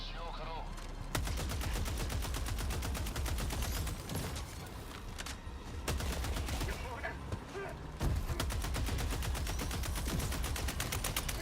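Rapid weapon fire from a video game, with a grenade launcher in use, keeps up a dense run of shots and blasts that barely pauses, under occasional talk.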